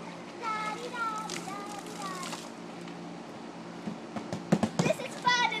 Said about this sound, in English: It's a relaxing time here at the pool.